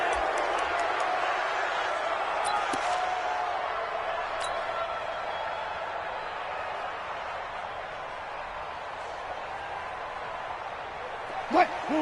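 Stadium crowd in a PS4 NFL game before a Raiders versus Vikings matchup, a steady broad murmur of many voices at moderate level with a few sharp thuds and a brief burst near the end.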